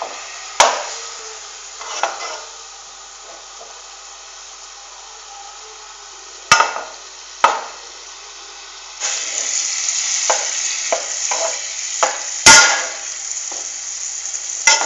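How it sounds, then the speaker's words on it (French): A chocolate mixture with a little water stirred with a tablespoon in a pan, a low steady hiss broken by sharp clinks and taps of the spoon against the pan, busier scraping toward the end. "avec une cuillère à soupe, on mélange le tout"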